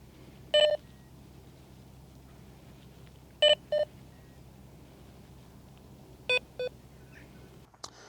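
A Rippton Bitekeeper Cube fishing bite alarm gives short electronic notification beeps in pairs, three separate bursts spread across the clip over a low steady background hum, with no speech.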